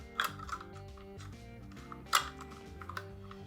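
A nut being tightened onto Icon 2.0 holster hardware, giving a few sharp, close clicks and small rattles spaced apart, with steady music playing underneath.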